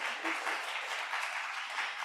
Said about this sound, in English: please give a big round of applause for Professor Van Hong.